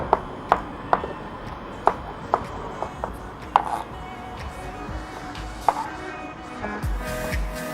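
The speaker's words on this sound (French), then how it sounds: "je suis en train d'hacher mon basilic" Basil being chopped with a knife on a cutting board, crisp uneven knocks of the blade striking the wood, close and clear over a quiet kitchen background, with a faint scrape near the end.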